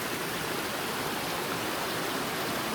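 Creek water flows in a steady, close, continuous rush and babble, an even wash of sound with no voices.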